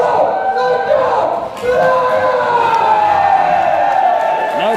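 A loud crowd cheering and whooping for a player at a live event, with a roar that dips briefly and then swells again, heard under someone talking over it.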